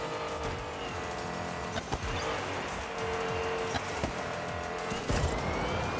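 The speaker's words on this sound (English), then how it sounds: "Is it better or worse when a electric car uses fake engine noises?" A steady synthetic fake engine drone from an electric car in the video game Hot Wheels Unleashed 2: Turbocharged hums throughout, with faint tire squeals and a few brief sharper accents, no voices.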